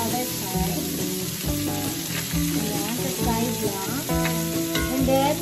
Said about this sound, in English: we should put our garlic on the side and leave. garlic and